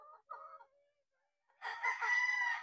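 A young white Kelso stag, about five months old, crowing nearby: a short rough call, a pause, then a longer strained crow that carries to the end, slightly cracked as in an immature rooster.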